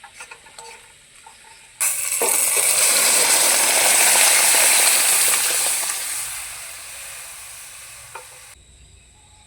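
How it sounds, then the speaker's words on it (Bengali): Boiled masoor lentils hit a pan of browned fried onions, setting off a loud, steady sizzle and hiss that swells and then eases off before cutting out. "এখন এখানে দিয়ে দেব সিদ্ধ করা মুসুর ডাল।"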